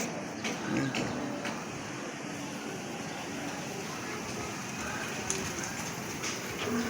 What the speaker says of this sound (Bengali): আন্ধার হয়ে দিচ্ছে বৃষ্টিতে।